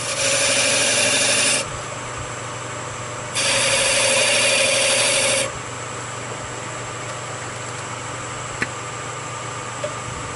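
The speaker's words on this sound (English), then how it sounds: "just using my skew chisel" A skew chisel cuts grooves into a spinning wooden table leg on a lathe, giving two steady bursts of rasping scrape over a constant motor hum, then only the hum with a faint tick.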